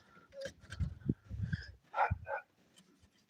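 A dog barks nearby indoors, a short burst of several sharp, uneven barks mixed with yips over a few seconds.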